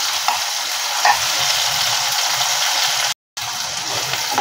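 Sliced tomato going into onions frying in a pan for masala rice, a steady close sizzle with a few soft stirring clicks, broken by a brief silent gap near the end.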